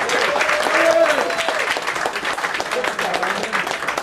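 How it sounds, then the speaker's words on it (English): A round of clapping from a small poetry-night audience in a bar, steady and fairly close, with voices murmuring through it and fading slightly toward the end. "Another round of applause for Norman Christoffoli,"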